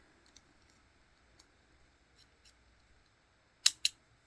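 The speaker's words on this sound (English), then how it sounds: "use your scissors to cut it" Two quick, crisp snips of scissors cutting thread close up near the end, after a few faint soft clicks in an otherwise quiet room while making beaded earrings.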